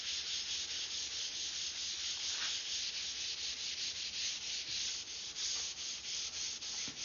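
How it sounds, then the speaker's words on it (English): Rough wood being sanded by hand, with repeated scratchy rubbing strokes in a quick, even rhythm, close and steady, with no talking. "there's no way I'm going to be able to sand that to where it's not rough"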